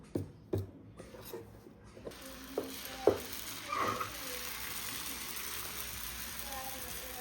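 Dosa batter sizzles and fries on an iron griddle, preceded by a few sharp clinks and scrapes, then settling into a steady soft crackle.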